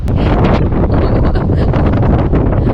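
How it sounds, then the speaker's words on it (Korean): Strong wind buffets the microphone outdoors during stormy weather in Malta, a loud, constant roar with surf mixed in and no break across the few seconds. "바람이 많이 많이 분다."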